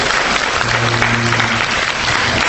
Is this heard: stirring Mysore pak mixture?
no